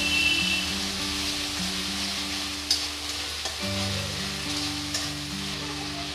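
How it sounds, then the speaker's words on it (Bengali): Onion, ginger and garlic paste frying in a pan for a shol fish dopiaza, a loud, continuous sizzle with a few sharp spatula scrapes and taps over it. "ভালো করে পেঁয়াজ আদা রসুনটা আমি কষে নেব।"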